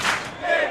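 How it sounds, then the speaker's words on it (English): Stands crowd at an under-24 world championship mixed ultimate frisbee final, USA versus Japan, lets out a brief roaring cheer as the disc lands deep in the end zone, a short wash of voices rising and falling. "the crowd and the stands cheering this one as the disc lands right at the back of the end zone"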